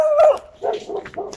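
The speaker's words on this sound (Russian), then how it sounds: "разгавкались собачки тут, как всегда" Dogs bark close by: a short burst of loud barks followed by smaller yips and whimpering sounds.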